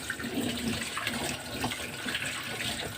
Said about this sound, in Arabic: انا هفتح الميه عشان بس انضفه لكم واوريه لكم